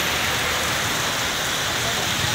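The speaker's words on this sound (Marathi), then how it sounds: "मस्तपैकी पाऊस सुरू झालेला आहे." Rain falling steadily on a farm, a dense even hiss of drops with no breaks, close and continuous.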